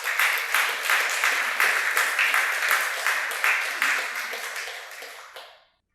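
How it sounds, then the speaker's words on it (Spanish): A church congregation applauds the Lord: dense, sustained clapping with a loose rhythmic pulse that holds steady, then fades away to silence at the very end. "Un aplauso al Señor."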